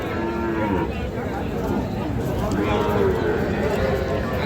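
Cattle, including young bulls and heifer calves, low and moo amid a busy crowd of chattering voices, with the animals' calls rising over constant cattle market bustle.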